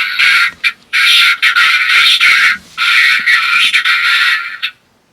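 A Blokees Transformers Soundwave action figure plays its built-in electronic voice effect, a loud, bright, buzzy processed burst in several chunks with short gaps, cutting off after about four and a half seconds.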